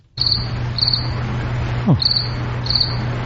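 Crickets chirp in steady, evenly spaced pulses over a continuous low hum, close and clear, with no talking.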